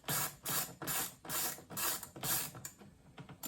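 Ratchet wrench loosening Torx nuts on the lock mechanism bracket inside the rear door of a 2013 Volvo XC70, six or seven rhythmic close clicking bursts in steady succession, then quieter clicks at the end.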